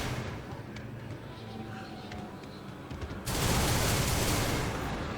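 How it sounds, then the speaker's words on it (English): A cannon fires in the video game Dragon's Dogma, set in Bitterblack Isle. Faint game sounds give way to a sudden loud, sustained blast of rumbling noise that fills the second half. "Where we have a sigil being shot, or shooting off the cannon."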